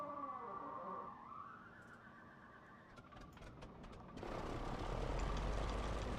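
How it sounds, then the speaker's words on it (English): A game aircraft engine in Microsoft Flight Simulator whines and rises in pitch as it spools up, then catches into a louder, steady droning roar; no talking over it. "Start engine."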